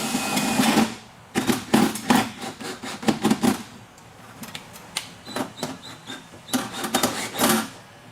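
Self-drilling screws are driven into the hood cover of a rolling shutter window, giving repeated bursts of rapid ratcheting clicks and grinding, close and fairly loud, separated by short pauses.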